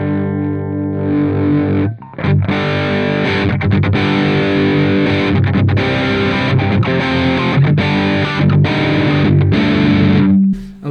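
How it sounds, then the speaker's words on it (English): Electric guitar through an amp with an OCD overdrive pedal at low drive, playing dense, continuous driven chords and riffs, loud and close, with brief breaks near the start and end. "Now I'm going to switch on my OCD, and again I'm going to take the drive all the way down."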